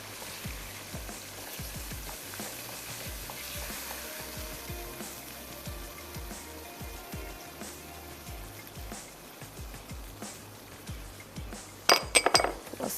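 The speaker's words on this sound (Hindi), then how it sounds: "थोड़ा सा मिक्स कर लेते हैं" Tikka biryani masala being mixed in a pot: soft scraping stirs and faint sizzle, ending in a few sharp metallic clinks of utensil on pot, fairly quiet with no talking.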